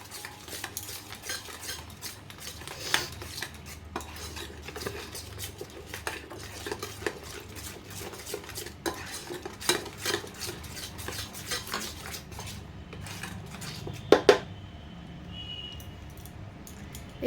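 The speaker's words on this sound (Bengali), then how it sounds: "এবার এই মশলাটাকে ভালো করে মেখে নিতে হবে।" A spoon scrapes and clinks against a bowl while spice paste is worked together with chilli powder, a continuous patter of small knocks and stirring scrapes, fairly quiet, with a couple of sharper clatters near the end.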